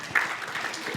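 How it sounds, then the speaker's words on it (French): Church congregation applauding over an Easter weekend gathering, a soft, fairly distant patter of clapping with faint voices mixed in. "Alors, oui, applaudissez"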